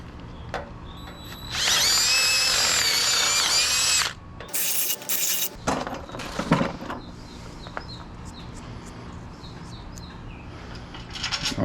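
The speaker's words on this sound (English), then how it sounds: "I'm gonna drill the holes out." A power drill screeches through small trailer metal, enlarging holes, in one loud sustained burst, followed by a shorter grinding burst, then quiet with birds chirping faintly outdoors.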